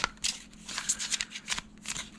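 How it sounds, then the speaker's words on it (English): Quick bursts of tarot cards being riffled and shuffled, several crisp flutters in a row, close and clear with no voices. "we're taking our Major Arcana pile, and I'm just gonna shuffle it a little bit."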